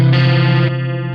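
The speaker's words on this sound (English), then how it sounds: "immediately when I switched to this pickup chorus of the GSL" An ESP Mirage Deluxe electric guitar from the 1980s sustains a single distorted chord through a chorus pickup setting, loud and near, with the tone dropping slightly partway before ringing out, no talk.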